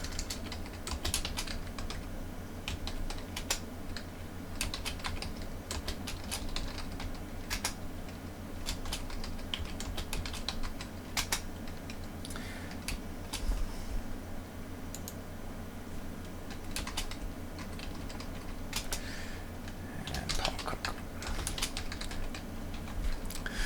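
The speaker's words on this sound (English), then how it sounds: "And I'm going to type in 5 salespeople." Steady typing on a computer keyboard while entering spreadsheet labels and figures in Microsoft Excel, with quick irregular clicks running continuously and close over a low hum.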